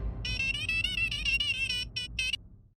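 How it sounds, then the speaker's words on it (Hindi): A phone placing a speed dial call rings out with a warbling electronic ringtone, a sustained trilling tone that breaks into two short bursts near the end before cutting to silence, heard alone at moderate volume. "मैं अय्यर भाई को भी फोन कर देता हूँ। उनका नंबर स्पीड डायल नंबर 2"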